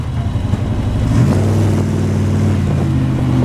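A 1959 Chevrolet Corvette on big Mickey Thompson rear tires drives past. Its engine gives a loud, deep rumble that rises into a steady drone, close by, with no voices.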